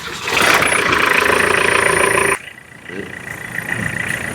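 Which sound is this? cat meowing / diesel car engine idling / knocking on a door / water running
diesel car engine idling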